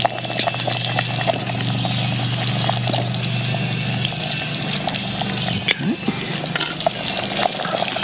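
Rice boiling in a pot over a campfire, stirred with soft scraping and sloshing clinks above a constant bubbling roar, close and fairly loud.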